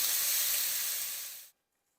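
Vegetables for a rabbit hunter's pie sauté in a pan, giving off a steady, loud steamy hiss that fades and cuts off after about a second and a half, with no voices.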